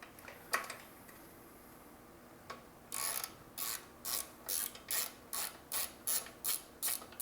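A ratchet wrench removes the bolt attaching a suspension shock during a vehicle build, giving a brief pause and then a steady run of about a dozen quick clicking strokes, close and clear over faint background noise, with no talking.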